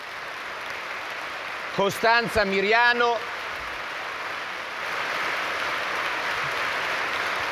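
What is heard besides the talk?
audience applause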